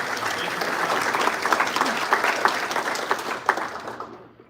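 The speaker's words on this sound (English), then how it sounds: "Big round of applause to all of you for making this entirely possible." Full-house audience applauding at a university ethics symposium, a dense, steady wash of many hands clapping that carries on for several seconds before tapering off at the end.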